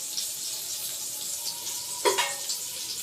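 Potatoes fry in a pan of white oil and butter together, a steady close sizzling hiss that runs throughout, broken once by a brief utensil clink and scrape near the end; nobody talks.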